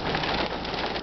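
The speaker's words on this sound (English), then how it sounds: "Here we got hail coming down." Hail and rain pelt down in a windy June storm on open prairie north of Hague, Saskatchewan, a dense steady hiss of impacts that fills the whole moment without pause.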